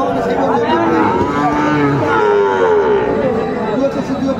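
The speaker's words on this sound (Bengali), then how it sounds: "ষাঁড় বাচ্চা ফ্রিজিয়ান ক্রসের মধ্যে।" A Friesian cross bull calf moos at a busy cattle market in Raniganj, several drawn-out, wavering calls close by, with crowd chatter and voices in the background.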